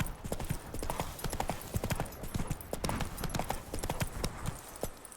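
Rapid clip-clop of horse hooves galloping in The Witcher 3, loud and close in a steady driving rhythm with a few brief voice sounds over it.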